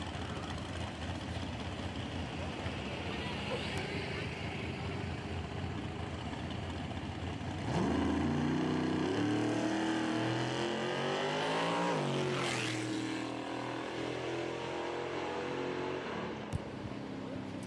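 Drag racing car on a bye run at Carolina Cash Days, heard first idling low and distant, then launching into a loud, rising roar that sweeps past and fades.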